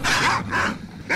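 A dog barks in the STALKER video game, three loud close barks in a quick uneven series with no talk over them.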